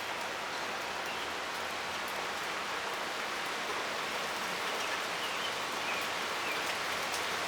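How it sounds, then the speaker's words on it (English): Steady rain pours during a gusty thunderstorm, a dense continuous hiss of drops on surfaces with a broad wash of wind-blown noise, fairly soft and unbroken throughout, no voices. "here comes more rain and wind gusts"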